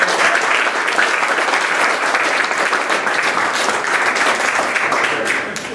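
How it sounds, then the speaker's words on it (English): Audience applause for a senior political advisor at a gathering, a dense and loud burst of many hands clapping that holds steady and then begins to fade at the end. "How about a round of applause for him?"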